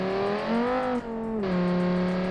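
A car engine revs hard and climbs through a long first gear, its tone rising steadily, dipping briefly at about one second, then holding a loud, droning pitch, all close and without talk.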